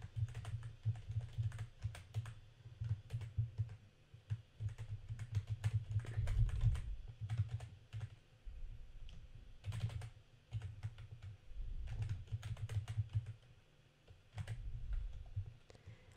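Someone types code on a computer keyboard, quick irregular bursts of key clicks broken by short pauses, steady and fairly close with no talking.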